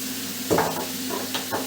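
Vinegar added to hamburger filling in a hot pan, giving a soft steady sizzle with a few brief stirring scrapes close by, no talk.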